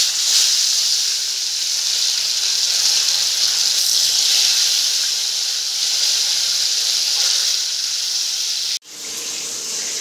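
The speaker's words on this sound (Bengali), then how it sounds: "এবার মাছগুলো দিয়ে মাছগুলো ভেজে নেব।" Fish frying in hot oil in a wok (kadai) for a home lunch: a loud, steady, dense sizzle fills the whole stretch, cuts out abruptly near the end, then resumes slightly quieter.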